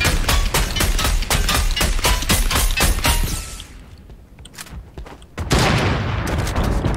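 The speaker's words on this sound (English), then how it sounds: "do you want me to shoot these mechs or no?" Rapid bursts of gunfire from a video game hammer away at mechs in a dense, sharp volley. The shooting stops partway through, leaving a quieter stretch, then a loud crashing blast hits near the end.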